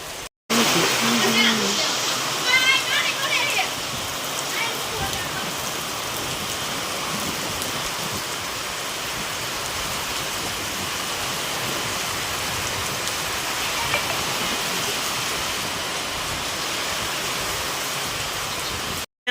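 Heavy rain pouring down outdoors in a loud, dense, unbroken roar that fills the whole stretch after a brief silence at the start.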